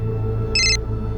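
A single short electronic phone ring tone chirps briefly over a quiet indoor background hum.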